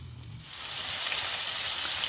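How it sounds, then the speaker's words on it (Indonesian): Tofu pieces frying in hot oil in a wok, a steady dense sizzle that swells after a soft start and holds loud and close with no talk. "Oke, kita masukkan, kita goreng"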